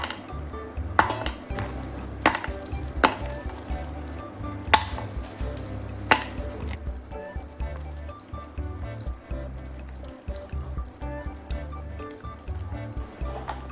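Melting candle wax is stirred in a heat-safe container, with a soft liquid bubbling and hissing beneath scattered sharp clinks of the stirrer against the sides. The clinks come irregularly, more often early on, then ease off.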